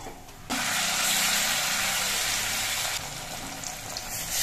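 Stuffed ash gourd leaf fritters (bora) fry in hot oil with a loud, continuous, close sizzle that jumps up sharply after a quieter start and holds steady throughout.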